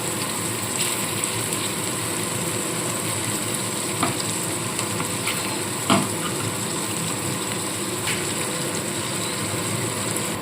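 Spice paste fried and stirred in a pan for a meatless pea and paneer dish, giving a continuous even sizzle with occasional soft scraping knocks, steady and close throughout.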